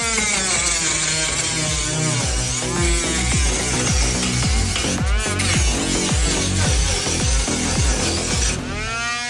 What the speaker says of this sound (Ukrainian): Давайте почнемо роботу з отакої болгарочки.